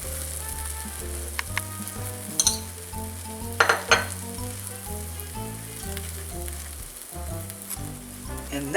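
A grilled cheese sandwich sizzles in butter in a pan over medium heat, a steady crackling fry broken by a few sharp clinks and scrapes of a utensil against the pan, with no talk.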